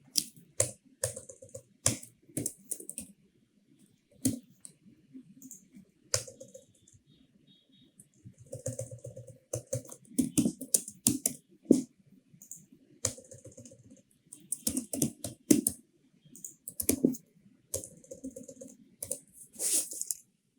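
Someone types data on a computer keyboard in irregular bursts of crisp key clicks with short pauses between runs, close and clear, and no one speaks.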